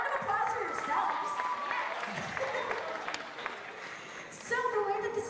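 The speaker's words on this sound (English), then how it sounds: "round of applause for yourselves" Audience applauding themselves at a fan convention panel, a dense crowd clapping that rises and falls with voices talking and cheering over it throughout.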